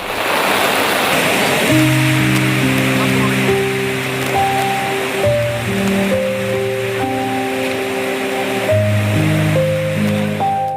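The flooded Kalladi river rushes with a steady, broad roar that fills the whole clip, while music with sustained tones plays loudly over the churning water.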